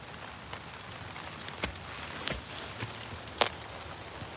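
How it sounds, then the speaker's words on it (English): Rain pattering steadily outdoors on a grape vine during a garden harvest, a soft continuous wash with a few louder close drop hits scattered through it. "it's really starting to rain"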